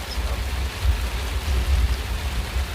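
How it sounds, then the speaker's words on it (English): Outdoors, rain falls in a steady, loud wash of hiss over a low rumbling undertone, with no voices. "the rain has calmed down"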